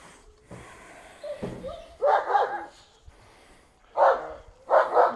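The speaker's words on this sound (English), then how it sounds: "She's looking at the dog barking" A dog barks outdoors during leash training, letting out three sharp, moderately distant barks separated by pauses, with faint background noise in between.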